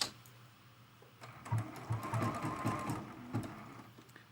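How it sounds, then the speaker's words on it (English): A sewing machine runs a zigzag stitch on fabric scraps in a quilting session, a short quiet burst of rapid mechanical clatter that starts after a pause and lasts about two seconds. "Let me just try out this zigzag stitch."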